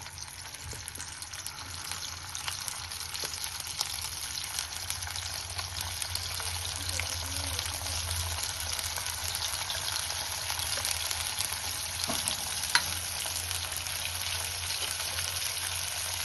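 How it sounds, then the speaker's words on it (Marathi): Steady, dense sizzling of paneer cubes deep frying in hot oil in a kadhai, a constant crackling hiss with occasional louder pops, no voices. "आता कढईत तेल होतं म्हणून मी डीप फ्राय करून घेते"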